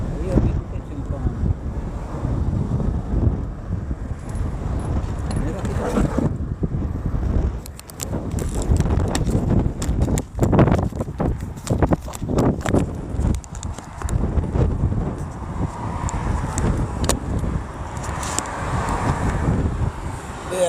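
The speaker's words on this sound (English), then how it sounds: "place kind of windy" Wind at a seaside fishing spot in Jamaica buffets the microphone in a steady, heavy roar throughout, with gusty surges and occasional clattering knocks.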